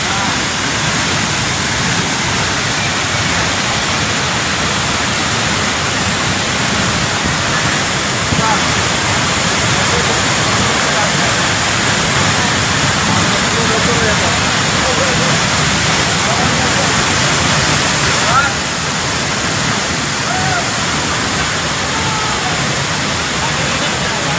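Rautwadi waterfall at Dajipur pouring onto rocks, a loud continuous roar of crashing water close by, with people talking faintly beneath it.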